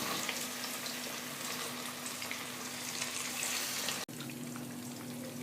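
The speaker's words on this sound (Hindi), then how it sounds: "तो साथ ही मैं इसमें चिकन डालती जाऊँगी। इसे बिल्कुल लो फ्लेम पे फ्राई करना है" Chicken pieces fry in hot oil over a low flame with a steady, even sizzle that fills the whole stretch, broken by one abrupt brief cutout near the end.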